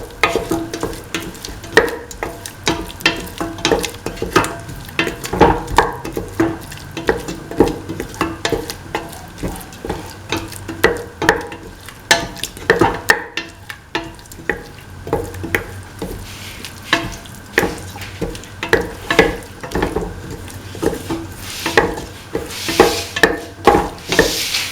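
A potato and chickpea mixture sizzles as it fries in a pan, with repeated scraping stirs of a spoon giving an uneven rhythm of clatter over the constant frying hiss.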